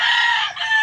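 A hybrid fighting rooster kept for cockfighting crows once, close and loud, a long sustained call that dips briefly near the end before rising again, with no voices over it.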